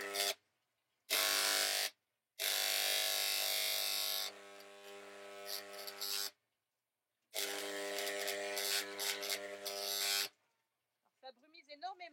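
An enamel spray gun fires several bursts of wide misting jet, loud hissing, buzzing blasts of a second or three each, separated by silences, with sputtering toward the end.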